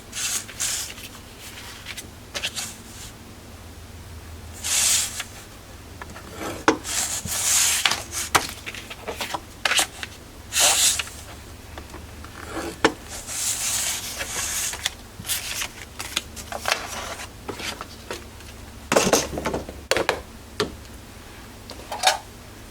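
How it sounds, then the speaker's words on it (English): Paper for a mini album being scored at half-inch intervals with a scoring tool, a series of close, short rubbing scrapes and taps repeating irregularly with brief pauses between strokes. "at 4 3/4 across, I'm just going to score them all at 1/2 inch"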